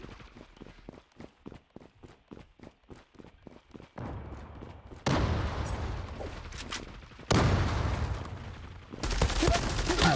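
Gunfire in a competitive shooter video game, starting with a rapid series of sharp single shots, then loud sustained bursts of automatic fire with short gaps, close and dense, no voices.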